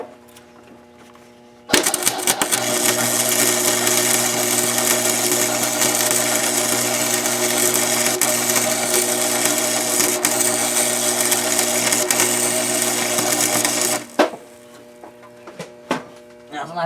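Welding onto a stuck exhaust header bolt on a Chevy Silverado 5.3 with an aluminum head: a continuous loud crackling buzz starts abruptly, runs steadily for about twelve seconds and cuts off, with faint background noise before and after.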